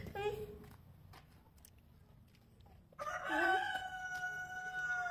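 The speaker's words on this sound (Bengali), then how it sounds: "এই মুরগি ডাকছে, ফাকিতা মুরগি ডাকছে।" A chicken calls out loudly and drawn-out from about halfway through, following a quieter stretch of faint household background noise.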